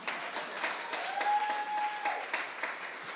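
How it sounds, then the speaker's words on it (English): Crowd at a grand opening of a recovery center clapping in a moderately sized room, a steady patter of applause with a faint tonal hum underneath, fairly quiet overall. "You can clap for that too."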